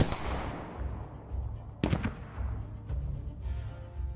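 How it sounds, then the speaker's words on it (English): Gunfire in a video game: a sharp burst of shots cracks out partway through, standing out from quieter, rumbling game sounds before and after. "And I'm supposed to be just opening fire,"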